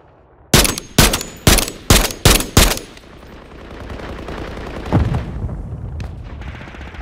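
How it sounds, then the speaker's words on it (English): Gunfire in a Call of Duty video game: six loud, evenly spaced shots in quick succession, followed by a lower rumbling background and one dull distant boom. "I'm taking fire!"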